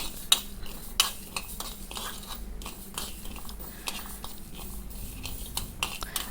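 Mustard seeds and fenugreek roasting in a pan on a low flame give a steady close scraping and stirring rasp, broken by a few sharp clinks of a spoon against the pan, with no talk.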